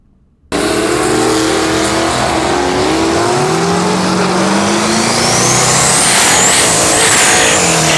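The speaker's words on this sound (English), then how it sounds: "here we have Hayden in his twin-turbo RX-7" Twin-turbo Mazda RX-7 rotary engine at a street car meet, roaring loud and close after a brief quiet start, revving and accelerating with rising and falling engine pitch, a sustained aggressive blare throughout.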